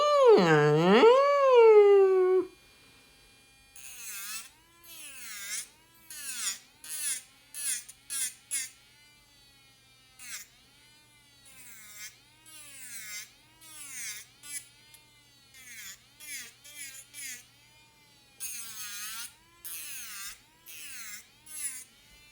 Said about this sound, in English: Do you guys hear this fucking drill over here?